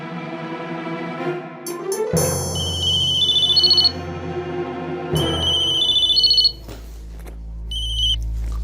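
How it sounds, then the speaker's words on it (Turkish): A telephone rings in bursts of bright, warbling electronic tones, two long rings with a pause between, loud and close, a third starting at the end. "Telefon!"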